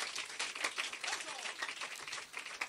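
A church congregation claps and applauds together, a dense, fairly soft run of hand claps at a moderate distance with voices mixed in.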